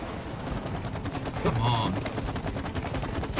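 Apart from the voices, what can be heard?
gunfire shooting in the video game It Takes Two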